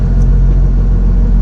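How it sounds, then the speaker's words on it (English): Inboard engine of a sailboat motoring slowly at about 6 knots toward Cape Town Harbour at night, a steady, loud low rumble and drone that holds constant without change in pitch. "started the engine, and now slowly motoring at 6 knots towards Cape Town Harbour"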